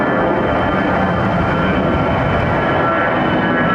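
An Airbus A320 climbs out overhead on departure from Heathrow runway 09R, its jet roar loud, steady and broadband throughout, close above with no voices.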